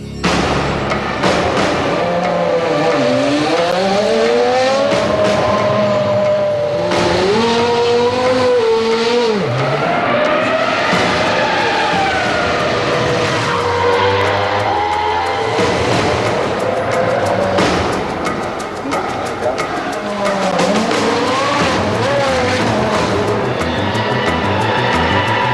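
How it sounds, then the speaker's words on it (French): A Jordan Ford EJ13 Formula 1 car on the Barcelona circuit screams continuously at close range, its high engine note sweeping up and down through repeated gear changes and passes. "Bas Lenders s'est retrouvé sur le circuit de Barcelone, prêt à se glisser dans le baquet de la Jordan Ford EJ13"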